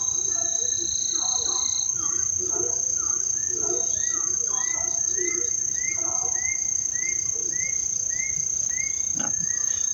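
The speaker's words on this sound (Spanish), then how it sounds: "ahí está el camungo." A horned screamer gives loud honking calls in a repeated series over a continuous whine of crickets and insects in lowland jungle in Peru.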